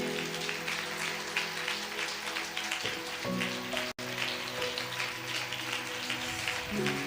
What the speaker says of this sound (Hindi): क्या हम जोर से जीवित परमेश्वर के लिए ताली बजा सकते हैं?